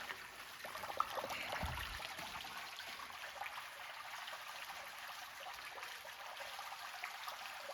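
Water gushes from a pump outlet and pours out near a garage at a property being cleared, a steady, continuous rushing wash at moderate distance with no voices.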